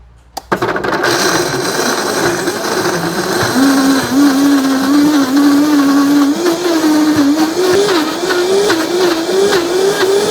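A Vitamix blender starts with a click and runs loud at maximum speed, grinding with a rattling, gear-like roar whose motor pitch slowly climbs, close and alone.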